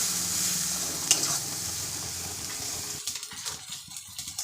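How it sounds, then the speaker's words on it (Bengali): Masala sizzles in oil in a pan for pabda fish curry, a steady hiss that gives way to scraping stirring strokes and spattering crackles near the end. "ভালো করে মশলাটা দিয়ে ভালো করে কষিয়ে নেব যতক্ষণ না তেল ছাড়ছে মশলা থেকে"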